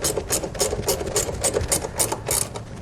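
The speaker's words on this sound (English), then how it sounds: "On the back side here, you will probably need to use a wrench to tighten these down" A hand wrench tightening bracket bolts for Westin PRO TRAXX oval nerf bars on a 2019 GMC Canyon gives a steady run of quick, evenly spaced ratcheting clicks up close, with no talk.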